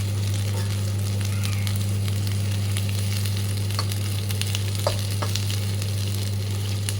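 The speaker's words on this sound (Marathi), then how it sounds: "आपण हे परतून घेऊया" Tomato and onion sauté in a pan for paneer matar, giving a steady, close sizzle with a few faint stirring clicks. A constant low electrical hum runs under the frying throughout.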